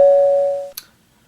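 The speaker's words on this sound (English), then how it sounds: "Doorbell." A single doorbell chime rings in a quiet room, a steady two-tone electronic tone sustaining for most of a second before cutting off with a brief click, then silence.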